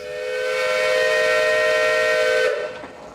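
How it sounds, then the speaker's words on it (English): A steam whistle at a steam threshing show blows one loud, sustained chord with a hissing edge for about two and a half seconds, then cuts off abruptly. "the whistle's just blown, and that means it's time to get some sawing done"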